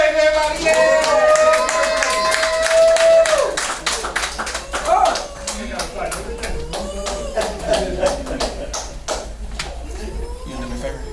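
A crowd at a poetry show claps together, a dense burst of applause at first that thins out, with a voice talking loudly over it.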